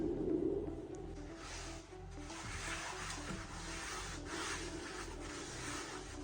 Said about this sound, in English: You want to keep picking that salt up, scrubbing those sides down, using that abrasion of that salt to just kind of sand all those little fines off.